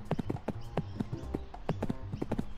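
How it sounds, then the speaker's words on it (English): In a school-themed video game, a horse's hooves clip-clop in a quick, irregular series of sharp knocks, close and fairly loud, with no voices. "Don't hate because I got a horse on campus."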